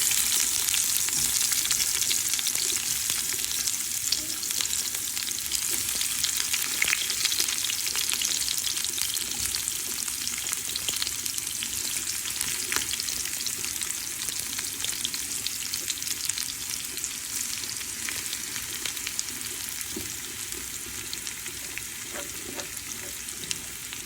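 Dough-wrapped filled pieces fry and get stirred in hot oil in a pot, a steady loud sizzle with scraping stirs throughout, no talk.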